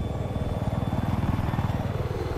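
Attack helicopter in Battlefield 4, a Viper, thrumming with a steady rapid rotor chop and engine drone throughout, loud and continuous with no talk over it.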